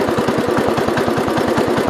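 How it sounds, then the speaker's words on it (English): A 1970 all-white 408 tractor engine idles steadily close by, its low, even chugging pulsing in a fast regular rhythm with no voices. "Now it's idling really good."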